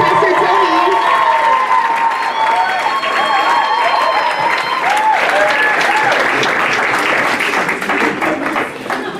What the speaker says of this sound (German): Also bitte ich um einen kräftigen Applaus für Pastor Tony